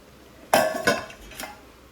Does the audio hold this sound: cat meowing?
no